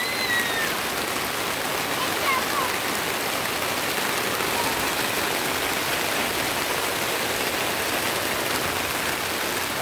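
Rain pours steadily during a storm at a campsite, a dense, even hiss of drops on surfaces that stays loud and close throughout, with no voices.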